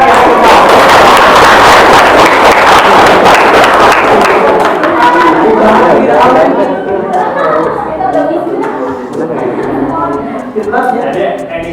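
Classroom applause for the second-place students in a quiz: dense, steady clapping from a group of pupils that gradually thins out, mixed with lively chatter and voices throughout.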